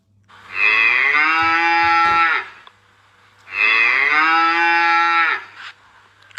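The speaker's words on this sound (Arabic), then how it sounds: "نسمع صوت البقرة" A cow lows twice, each moo long, loud and close, lasting about two seconds, with a short pause between them.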